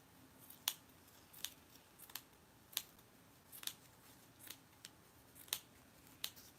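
Scissors snip an ornament's small hat part in a series of crisp, quiet cuts spaced roughly every second, heard close against a soft background.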